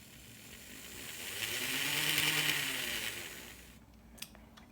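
A small electric motor in a Plymouth industrial switcher model whirs as it turns a worm gear, swelling to a steady hum in the middle and then fading, with a brief click near the end.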